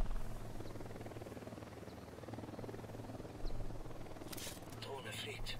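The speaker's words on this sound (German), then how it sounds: "Drohne fliegt." A drone flying in the video game Ghost Recon Wildlands gives a steady whirring, buzzing hum throughout, with a brief brighter burst near the end.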